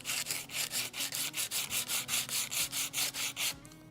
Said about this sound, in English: Come back to the sandpaper.